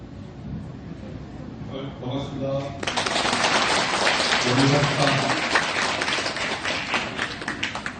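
Applause at a Buddhist gathering of bodhisattva members, quiet talk at first, then a burst of many hands clapping that swells and holds steadily at moderate loudness, with voices under it.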